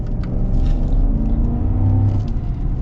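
A 2023 GMC Sierra AT4X pickup with its 6.2-litre V8 accelerates hard, a loud, close, deep engine roar rising in pitch over about three seconds, heard from inside with no talking.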